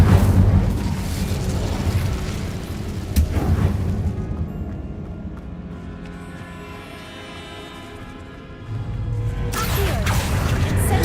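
Incendio fire spell cast in Hogwarts Legacy, a loud rushing blast of flame at the start that eases into a quieter magical shimmer, then a second roaring surge near the end.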